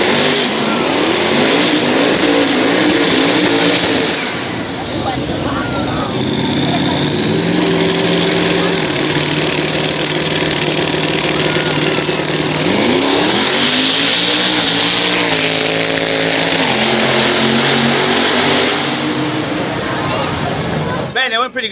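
A 1400 hp all-wheel-drive twin-turbo Cadillac CTS-V makes an eighth-mile drag run at Miami Speedway, its engine roaring loud and steady, pitch climbing and dropping through gear shifts, with turbo whine riding on top, close up for the whole run.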